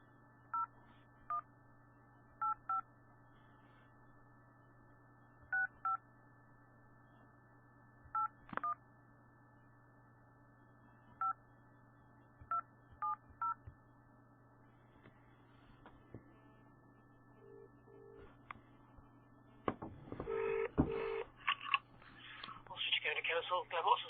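A landline phone call placed to a county council office starts with about a dozen crisp DTMF dialing beeps in short pairs and clusters, spaced over a steady line hum, and ends with a connection burst and voices.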